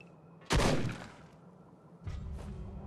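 Gunfire in the zombie video game ZombiU: a single loud shot rings out and decays over about a second, followed by a second, weaker burst of game noise, with no talking.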